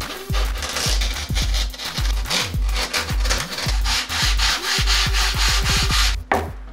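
Steady rhythmic scraping strokes, close and fairly loud, an abrasive rubbing back and forth across foam, sanding it to a taper for a foam axe head, ending with a brief knock.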